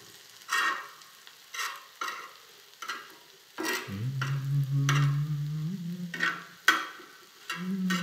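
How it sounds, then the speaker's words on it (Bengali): Small puti fish fry in hot oil, with a steady sizzle broken by repeated stirring and scraping strokes in the pan. A low, even hiss swells in the middle of the clip, with no talk. "অবশেষে পুঁটি ভাজা শেষ।"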